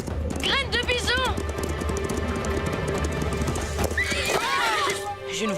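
A cartoon horse whinnies loudly twice, with hooves clip-clopping beneath, then neighs again near the end over a busy background.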